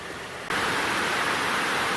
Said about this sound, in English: it's just started raining quite heavily here